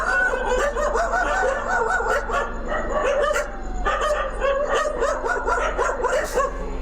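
Several dogs bark repeatedly in rapid, overlapping bursts, fairly close and loud, with a few higher yips mixed into the chorus.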